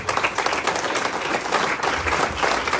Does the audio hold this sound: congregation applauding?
yes